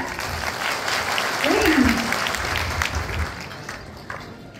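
An audience at a Diwali lucky-draw event applauds, continuous clapping with crowd murmur and a brief voice cutting through, gradually easing off toward the end.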